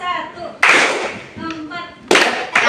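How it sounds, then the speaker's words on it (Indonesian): Hands clap in counted groups during a classroom teaching practice, sharp bursts of clapping separated by gaps, with a voice speaking between them. "Tepuk 3, tepuk 3, tepuk 2, tepuk 1"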